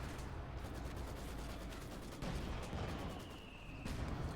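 Gunfire in the strategy game Company of Heroes 2, a dense, continuous crackle of rifle and machine-gun bursts that runs without a break at a steady loud level, with a few heavier booms inside the mix.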